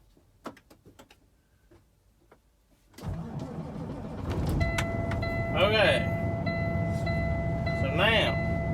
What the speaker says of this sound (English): crank it up, rev it up.